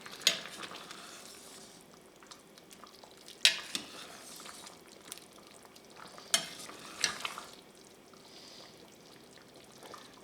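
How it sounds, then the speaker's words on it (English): A spoon stirs a thickening cornstarch sauce in a pot of Irish stew with beer and chocolate, giving soft scraping strokes and a few sharper knocks against the pot over a quiet, steady sizzle. "just stir this gently, slowly and gently, and the cornstarch will thicken all of that sauce very quickly"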